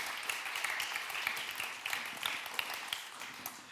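An audience applauds with steady, dense clapping throughout, moderately loud and sustained.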